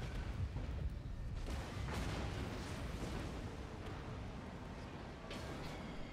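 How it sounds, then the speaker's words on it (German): Heavy naval deck guns of a Yamato-class battleship booming in close combat in World of Warships, a dense, loud rumbling wash of cannon fire and blasts filling the whole stretch with no distinct pauses. "Die Bordgeschütze schießen auch schon."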